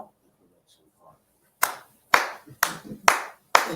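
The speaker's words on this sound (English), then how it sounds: "you clapped really loud" Five loud, sharp hand claps sound close by in slow succession after a near-silent start, with faint murmuring beforehand.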